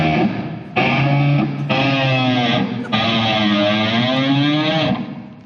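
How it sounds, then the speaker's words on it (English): Distorted electric guitar through a SoundBlox pedal's Rhino patch, loud buzzy sustained notes with a few sharp re-attacks and a bending, warbling pitch, close and alone before fading out. "The Rhino patch sounds like this."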